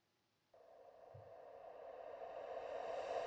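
Synthesized sweep transition built from a saw wave and white noise, a buzzing tone entering abruptly and swelling steadily as hissing noise rises in pitch over a few seconds.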